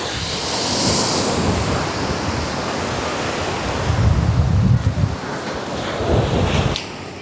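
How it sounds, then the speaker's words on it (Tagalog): Strong ocean waves breaking on a beach, loud rushing surf with wind buffeting the microphone, swells rising and falling in two surges, no voices. "Malakas na ng alon mga kalingap."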